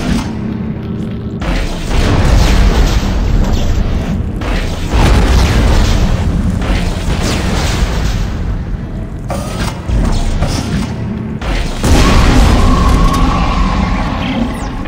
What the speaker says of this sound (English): Nitrogen trichloride. Those explode if they overheat.